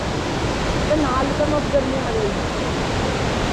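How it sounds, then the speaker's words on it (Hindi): A waterfall on the Kheerganga trek gives a steady, full rushing roar that fills the whole stretch evenly and stays loud and continuous. "ये देखिए ये रहा वाटरफॉल, कितना प्यारा लग रहा है भाई"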